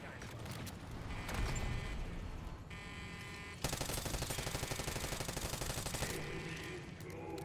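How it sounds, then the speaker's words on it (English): Submachine gun firing in Call of Duty Zombies on the Terminus map, long rapid automatic bursts that run almost continuously, loud and close, with a brief change in tone between volleys. "My little submachine gun isn't doing too great now."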